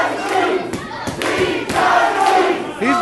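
Wrestling crowd at an IZW show cheering and shouting for a favoured wrestler, a loud, continuous roar of many voices with rising yells and scattered claps.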